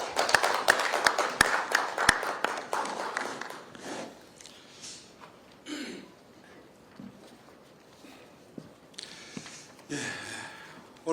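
Audience applause welcoming a Seoul mayoral candidate at a Kwanhun Club press debate, starting as a burst of sharp, close claps that thins out into scattered taps and shuffling.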